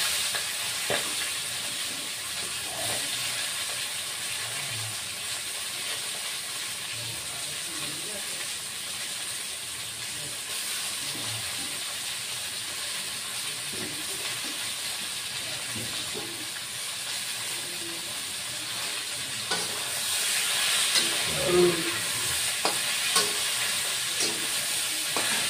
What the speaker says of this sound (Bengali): এবার পুঁই শাকগুলি দিয়ে দিচ্ছি।